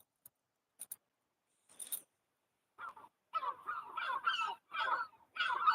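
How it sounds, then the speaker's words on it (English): Gulls calling at night near a church in Jarrow, starting with a few faint scattered notes, then loud repeated nasal squawking cries in quick bursts, fairly close and alone without talk. "Can you hear the seagulls, anyone?"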